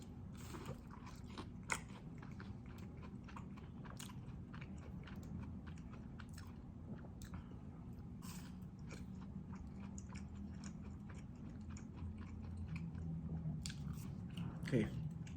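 Someone eats McDonald's Spicy McNuggets up close, with soft repeated bites and wet chewing, faint crunches and scraping over a low room hum, and a few brief sharper clicks.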